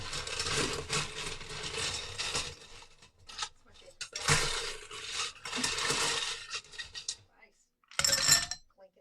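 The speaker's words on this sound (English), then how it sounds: "Clinking in the glass" Ice rattles and clinks against glass in repeated bursts of shaking, close up, with short pauses between them.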